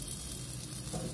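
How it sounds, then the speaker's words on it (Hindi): Tomatoes cook in a pan with a soft, steady sizzle and frying crackle that holds at a low level throughout. "इनको पकाते हैं अच्छे से"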